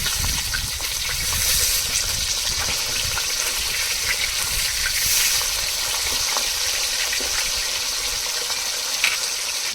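The tail of a large catla fish fries in hot oil, giving a loud, dense and constant hiss with sputtering crackles. It stays close and unbroken for about ten seconds.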